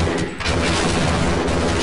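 Dense, loud burst of gunfire in the video game Half-Life, sustained shots crowding together into a continuous roar with no talk over it.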